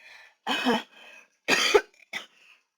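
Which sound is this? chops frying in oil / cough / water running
cough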